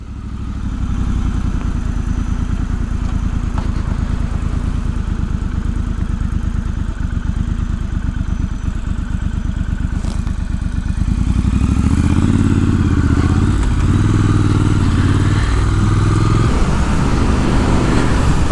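A Triumph Scrambler 1200XE motorcycle being ridden, its engine droning steadily and close throughout, with wind and road rumble, the engine note growing louder and deeper in the second half as it pulls harder.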